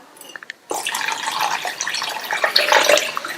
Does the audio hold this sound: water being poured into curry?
yes